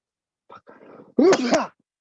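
A man sneezes once, loudly and close by, with a short sharp burst that follows a brief intake of breath, during a casual interview conversation.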